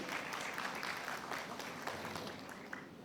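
An audience at a community gathering applauds in a steady, fairly faint wash of clapping that carries on without a break for a few seconds.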